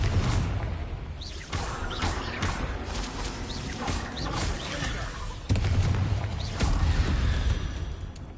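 Bombarda and Confringo spell explosions in Hogwarts Legacy: dense, roaring blasts and crashing debris fill the whole clip, with a sharper surge of impact midway and continuous rumble throughout.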